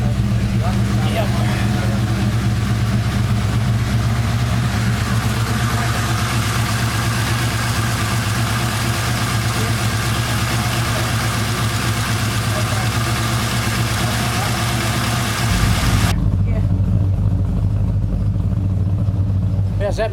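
A 1999 Holden R8 Clubsport fitted with a new cam idles steadily nearby with a lumpy, deep rumble. Voices talk over the engine for most of the time, and the tone shifts slightly near the end.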